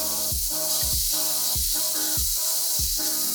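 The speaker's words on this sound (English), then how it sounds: "you could start grilling them on a pan, but this time you don't need olive oil" Rice balls grill in a dry pan with no oil, giving a steady loud sizzling hiss with soft rhythmic scraping or shuffling sounds repeating about every half second.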